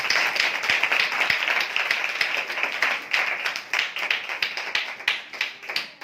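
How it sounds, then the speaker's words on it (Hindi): Lively applause from a church gathering welcoming members of a spiritual assembly, a dense continuous patter of many hands clapping at close range for several seconds. "जोरदार तालियों से उनका स्वागत करें।"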